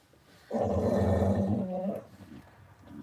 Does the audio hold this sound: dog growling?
yes